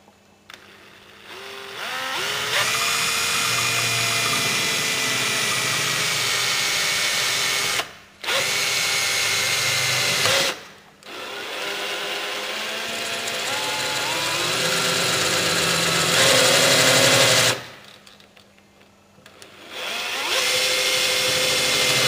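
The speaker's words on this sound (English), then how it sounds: "Now that you've drilled the core bit out" A power drill fitted with a core bit bores a 19mm-deep hole for a fin plug, whining loudly and steadily in long runs broken by brief pauses.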